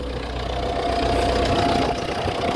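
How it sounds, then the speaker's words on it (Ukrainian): An MTZ-892 tractor labours in third gear while plowing wet, heavy soil, its engine droning loud and steady with a rough, knocking undertone and a faint whine riding on top. "Іде бідненький гребеться, трактор."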